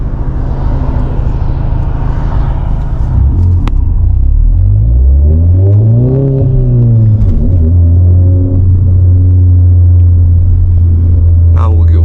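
A 600bhp Volkswagen Golf R engine booms and rumbles loudly from inside the car, its pitch sweeping up under acceleration and then settling to a deep steady drone, with a voice speaking briefly early on.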